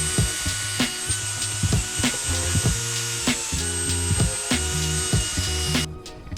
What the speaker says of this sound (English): So I've got my drill with the little pad on the end